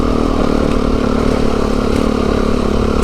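A Beta 390RR trail motorcycle engine drones steadily and loud while riding on a wintery trail, a constant close mid-pitched throb throughout.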